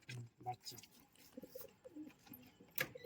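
Giribaz pigeons coo in soft, intermittent calls at a faint, moderate distance, mixed with people talking nearby.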